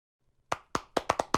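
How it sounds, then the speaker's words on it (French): Sparse applause from a small conference audience in France, starting as a few isolated, separate claps that quickly build into a short, irregular patter of hand claps heard fairly close and clean, with no talking. "Donc merci d'applaudir Gilles Babinet."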